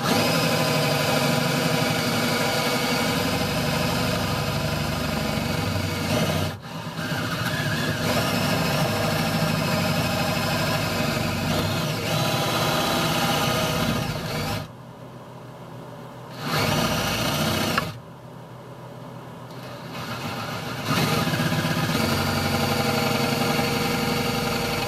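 Power tool cutting through a panel on a 5 x 8 teardrop camper, a loud, buzzing motor run near the mic that stops twice briefly before resuming.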